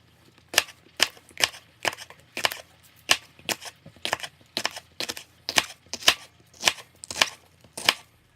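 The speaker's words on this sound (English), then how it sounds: "you can determine how chunky you want your salsa, and cut the jalapenos accordingly" A knife chops jalapenos on a cutting board for black bean salsa, giving a steady run of about sixteen sharp, crisp knocks at a fairly even pace, close and clear, with no talking.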